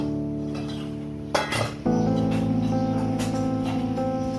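A metal kadai pan set down on a stove for cooking: a short clatter and clank of metal on the burner, followed by a steady, loud humming drone from the stove.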